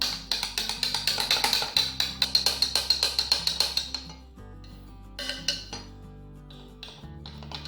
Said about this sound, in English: And just give this a good stir.